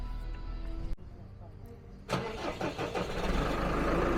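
A 2013 New Holland T6.160 four-cylinder, 160 hp front-axle tractor with under 6,500 hours: a steady low engine hum close by, then a sudden louder, rougher roar about halfway through that keeps running strong to the end.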